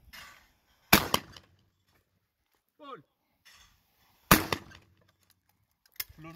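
Shotgun shots at clay targets outdoors, two loud sharp bangs with quick follow-up cracks a few seconds apart and a fainter third, a voice calling briefly between them.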